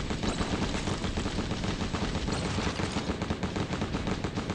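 Turret fire in the video game Dead Paradise rattles on without a break, a loud, dense machine-gun burst of rapid, evenly spaced shots filling the whole stretch.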